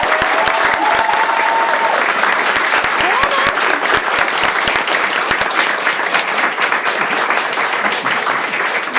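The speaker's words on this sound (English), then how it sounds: "So everybody give her a round of applause." Sustained audience applause at an awards ceremony honoring a support person of the year, dense clapping filling the room for about nine seconds, a voice briefly audible over it at the start.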